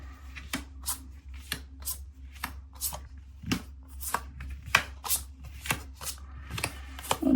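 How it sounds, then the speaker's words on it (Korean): Tarot cards being handled and laid out one by one, giving a steady series of crisp, close slaps and flicks about every half second over a low background hum, with no talking. "하늘색 뽑으신 하늘님들 카드 오픈해 보도록 할게요"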